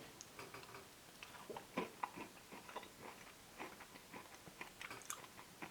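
Biting and chewing Häagen-Dazs churros dulce de leche ice cream with dense cookie-dough-like churro pieces, heard as soft close crunches and wet chewing ticks in an irregular rhythm, fairly faint.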